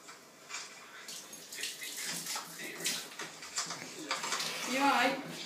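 Water runs from a tap into a bathtub, a hissing splashing stream that swells and fades, with people talking over it.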